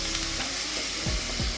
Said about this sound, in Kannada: ಟಮಾಟೆ ಹಾಕಿ ಮತ್ತೆ ಫ್ರೈ ಮಾಡಿರಿ